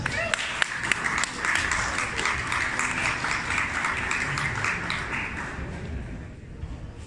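Sustained applause from an audience at a Maker Faire talk welcoming a speaker, dense clapping with a few sharp nearby claps standing out, steady and fairly loud before tapering slightly at the end.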